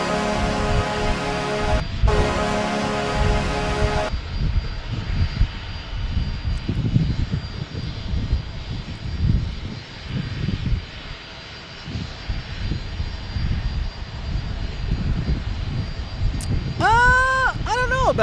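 A UPS cargo plane passes at San Diego airport, its loud jet engine roar swelling and rumbling steadily across the span while people talk nearby at the start and end.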